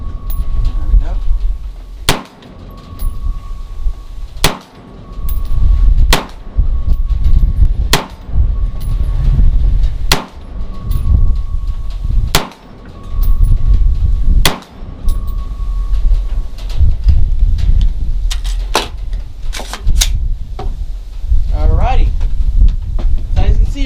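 Rifle shots are fired while sighting in an HWU Saturn ACOG-style optic at a range. About nine sharp, loud cracks come at irregular intervals over a steady outdoor wind rumble, with a faint ringing tone in the first half.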